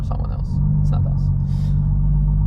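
Low, steady engine rumble from a 910 HP hybrid turbo Toyota Supra on the Nürburgring, heard close and continuous from inside the car for the whole stretch, with faint higher noises scattered above it.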